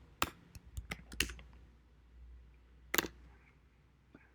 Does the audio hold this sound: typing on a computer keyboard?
yes